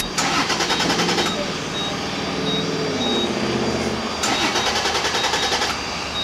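A car engine cranks again and again without catching, with repeated rapid starter-motor whirring in two long bursts and a quieter stretch between them, heard close up.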